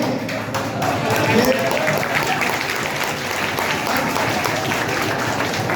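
Dense applause from an audience at a student event for Kargil Vijay Diwas, steady and sustained at close range, with voices mixed through the clapping.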